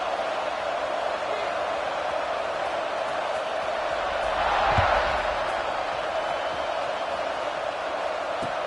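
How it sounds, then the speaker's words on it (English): A football stadium crowd at a Texas vs Michigan game keeps up a steady, dense buzz of distant cheering and chatter, swelling slightly for a moment before settling back to an even roar. "this crowd is buzzing after that last score"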